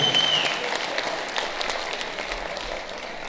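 An audience at an eighth grade moving-up ceremony gives a steady round of applause for a student, many hands clapping in a large room at moderate volume for several seconds, with a faint voice briefly audible early on.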